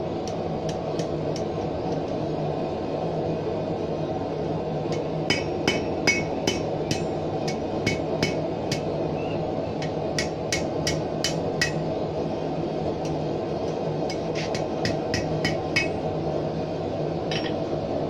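A blacksmith hammers steel on an anvil while forging a leaf-end hook, with bursts of sharp ringing blows in quick clusters over a constant roaring forge-like background, close and with no talk.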